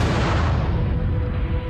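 A film-effects explosion for a stunt, with big air mortars blasting wind at the actors, sounds as a loud, sustained low roar and rumble that runs steadily through the whole stretch, close and dense, without a sharp onset.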